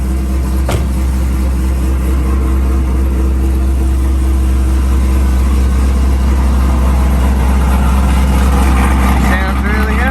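A ProCharged 700HP Corvette engine idles steadily, a loud constant low rumble with a deep hum and a brief blip near the start, sounding close and uninterrupted throughout.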